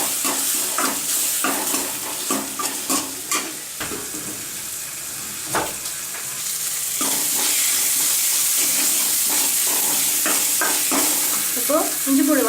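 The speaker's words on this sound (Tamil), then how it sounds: "இஞ்சி பூண்டு பேஸ்ட் வாசனை போகிற வரைக்கும் நல்லா வதக்கிக்கணும்." Ginger garlic paste sautéing in a pan while a kurma for chapati is being made, a steady loud sizzle and hiss broken by scraping stirring strokes, with the frying growing more intense toward the end.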